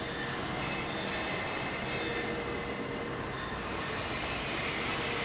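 Loud, steady machinery roar in a manufacturing shop's grinding room, with a constant grinding hiss filling the room and no breaks.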